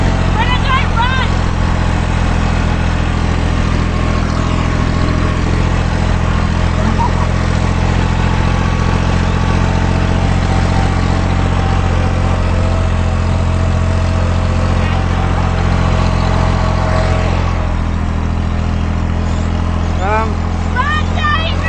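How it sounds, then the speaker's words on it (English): A tractor engine chugging steadily while being driven on a Christmas Day ride among trees and sheep, a loud, close, unbroken low rumble with excited children's and adults' voices over it. "I'm totally driving the tractor!"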